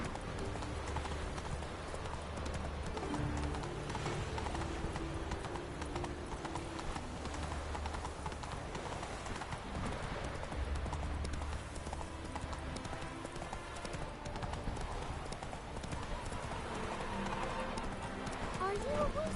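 The horse Roach in The Witcher 3 gallops in a rapid, steady clip-clop of hooves that runs the whole way through, with a brief whinny. Game music plays underneath and a voice speaks over it.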